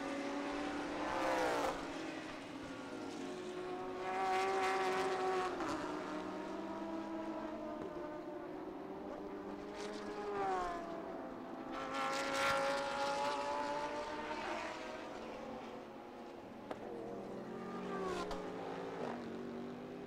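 GT race cars from the GT Asia series thunder past one after another, engines rising and falling in loud pitch sweeps as each car approaches and recedes, a near-continuous roar lasting throughout.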